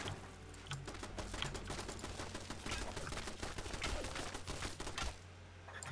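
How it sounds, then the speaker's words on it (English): A turret in Fallout 76 fires rapid, continuous gunfire with a steady clattering rhythm of sharp shots that stops near the end, loud and close, with a little faint talk underneath. "My turret is attacking you."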